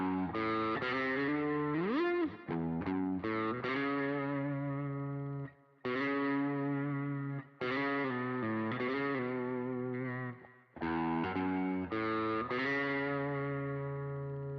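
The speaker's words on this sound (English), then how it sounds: "Maybe not the best distortion." An electric guitar played through a distortion effect rings out with loud, gritty sustained notes and chords, repeatedly broken by short pauses during a live practice jam.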